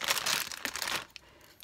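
Packaged plastic-like Easter grass being crinkled close up, a dense burst of crackling rustle for about a second, then a few sparse faint crinkles.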